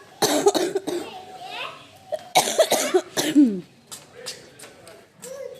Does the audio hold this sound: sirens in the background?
no